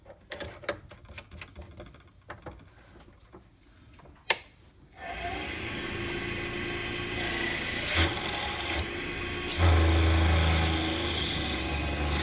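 Drill bit clearing out a pen blank on a lathe after drilling, starting with sparse scraping ticks and knocks, then a steady loud whirring rasp of the bit cutting and rubbing inside the blank.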